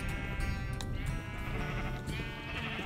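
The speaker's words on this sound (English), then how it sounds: "There's another blue sheep" Sheep bleat in the video game Minecraft: wavering, nasal bleats over about three seconds, moderately loud, with a busy game-music bed underneath and no voices.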